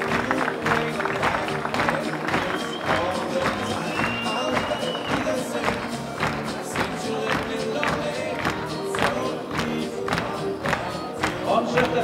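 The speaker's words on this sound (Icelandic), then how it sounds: "Við skulum bara klappa svolítið fyrir þið." Audience at an Icelandic stallion show in 2012 claps for horses that have advanced, with a steady patter of applause mixed with crowd noise and talk across the whole stretch.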